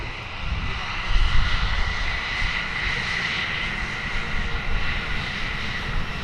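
Boeing F-15 fighter jet at the Farnborough International Air Show, a continuous loud, rumbling engine roar with steady broadband hiss, distant but powerful, heard outdoors without talk.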